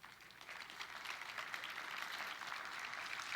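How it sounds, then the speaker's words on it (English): Steady audience applause at a car wash industry Hall of Fame award ceremony, a dense continuous wash of clapping held at even level throughout with no voices over it. "Let's give them a round of applause."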